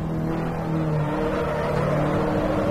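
Turbocharged race car engine in the Assetto Corsa racing game, a small engine of around one-point-something litres, droning steadily at close range with a sustained tonal hum and rising revs, with no talk over it.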